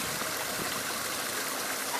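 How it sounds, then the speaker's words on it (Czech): Water falls steadily in a continuous rushing hiss, close and fairly loud, with no voices over it. "Voda padá."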